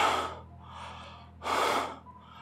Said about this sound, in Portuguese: Ele podia ouvir uma respiração